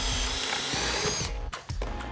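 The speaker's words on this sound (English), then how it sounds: "And so we give it a quick drill." A power drill bites into wood in a brief close burst, with a buzzing whine and a ratcheting mechanical rattle that ends in a few choppy stops.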